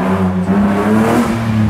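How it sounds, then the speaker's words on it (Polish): A rear-wheel-drive BMW E36 rally car at the Koszalin rally accelerates, a loud, steady engine drone with strong low harmonics filling the whole stretch without talk. "Kolejne tylnie napędowe BMW."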